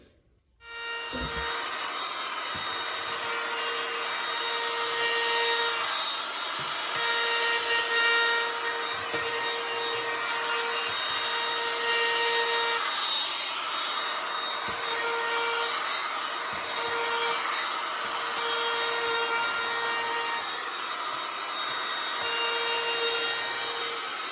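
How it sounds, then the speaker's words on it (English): A router shaping the edge of a wooden workpiece, with a steady high whine and a rough cutting rasp that runs continuously and loudly, dipping only briefly as the bit moves along the wood. "I'll get my router, put a nice edge on this"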